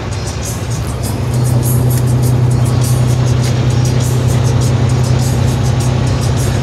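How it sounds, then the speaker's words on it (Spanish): Steady road noise from inside a moving car on a street, a loud continuous engine hum and tire rumble that swells as the vehicle speeds up, with no distinct sound of another car cutting in. "Ahí se entró el carrito."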